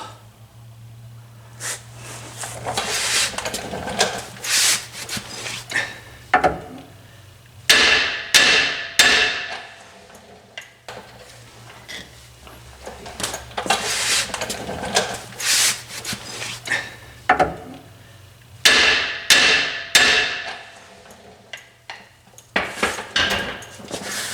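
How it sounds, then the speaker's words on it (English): Repeated hammer blows ring out on the metal body of a 1960 Chrysler 300F in clustered bursts, bright clanging strikes with short pauses between groups, close and loud over a low steady hum. "take a hammer here and here at the same time. I'm going to ring it like a bell."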